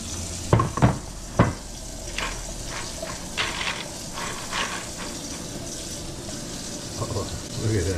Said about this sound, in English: Drop them right in the ice bath.